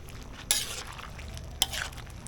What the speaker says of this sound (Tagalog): Haluin ni Kalawete.